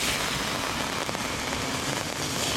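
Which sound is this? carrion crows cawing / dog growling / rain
rain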